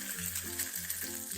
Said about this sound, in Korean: 고기에 날밀가루가 안 보이면 풀어둔 계란물에 담갔다가 팬에 올려